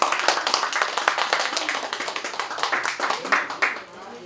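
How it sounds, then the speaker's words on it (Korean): An audience at a commemorative event marking Ham Seok-heon's 123rd birthday claps to welcome the foundation chairman to the podium: dense, steady applause from a crowd, tapering off at the very end. "장명호 이사장님 나오실 때 박수로 맞아주시면 좋겠습니다."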